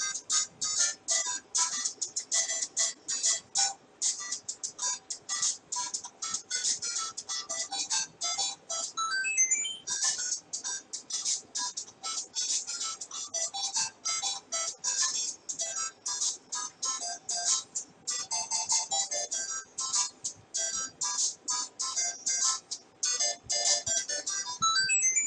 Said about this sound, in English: As you eat the food, the length of the snake grows, and a corresponding sound is played on the mobile phone.